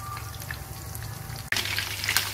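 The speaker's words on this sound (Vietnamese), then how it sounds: "Cứ chiên đến khi mà nó giòn các mặn là được." Pork pieces frying in hot oil over medium heat until the skin turns crisp, a steady close sizzle with a brief jolt midway as the oil crackles up louder, no voices.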